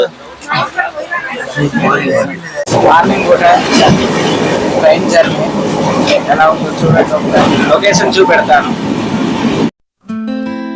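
A train rumbles along the rails with rhythmic clatter, heard from inside the carriage, loud and close, under people talking nearby, then cuts off abruptly near the end.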